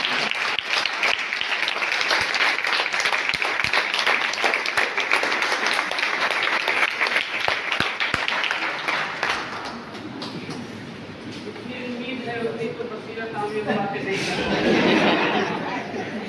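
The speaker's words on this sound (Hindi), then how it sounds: "ताली का बजाना बंद करो" Audience applause at a Teachers' Day tribute event, with dense clapping and murmured chatter for about nine seconds. The clapping then thins and fades as voices and laughter take over in the hall.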